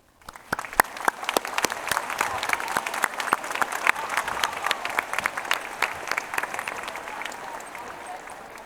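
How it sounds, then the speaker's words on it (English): Eighth graders and guests at a school ceremony give the teachers a round of applause, a brisk crowd of clapping hands that starts quickly and holds steady, dense and moderately distant, tapering slightly toward the end. "let's give our awesome teachers a round of applause"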